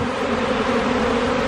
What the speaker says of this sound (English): I am getting bees all over me.